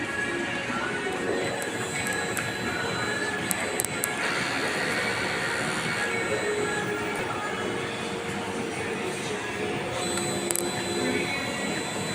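Printer running a nozzle check print, with a continuous mechanical whir and hum steady throughout, plus a few faint higher ticks and whines, at moderate distance.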